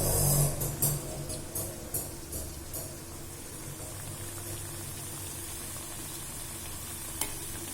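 Puri frying in hot oil, a steady bubbling sizzle with a few sharp clatters near the start, settling into an even, close hiss.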